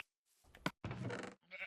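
Sheep bleating in Minecraft, two close, clear wavering bleats one after another, followed by a shorter third call, loud against an otherwise quiet background.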